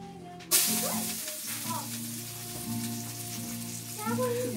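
Garlic fries in a pan on a wood-fired stove, a steady bright sizzle that flares up sharply early on and then crackles on continuously, with a low hum underneath.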